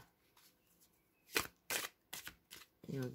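Tarot cards are shuffled in several quick, close riffling bursts, separated by short pauses, with a brief voice near the end.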